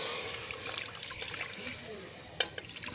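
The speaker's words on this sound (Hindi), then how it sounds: "इसमें हम पानी डालते हैं। ये हमने आधा किलो पानी डाला है इसमें," Water is poured into a cooking pot of beef korma, a faint trickling and splashing stream heard under kitchen background noise, with one sharp clink near the end.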